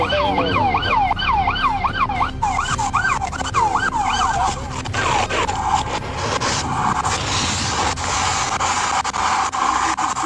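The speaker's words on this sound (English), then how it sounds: "Whoever that is, turn your siren off" A wailing police siren during a police chase sweeps up and down repeatedly, loud and close, over traffic noise, then cuts out midway, leaving rumbling road sounds.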